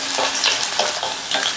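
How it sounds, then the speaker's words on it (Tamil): Garlic sautéing and sizzling in a pan, about fifteen cloves stirred until lightly colored, with a loud steady frying hiss and spatula scrapes throughout, no voices. "இந்த பூண்டை லைட்டாக அதனுடைய கலர் சேஞ்ச் ஆகி வர வரைக்கும் வதக்கிக்கங்க"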